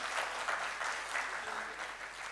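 Audience applause for two debate teams at a Foundation Day debate, a steady wash of many hands clapping throughout, fairly even and moderately loud with faint voices underneath.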